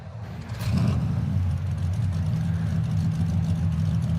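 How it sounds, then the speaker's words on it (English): Race car engines idle on the starting grid at Dover International Raceway in a racing video game, a loud, steady low rumble that swells slightly after a brief rise at the start. "start your goddamn engines!"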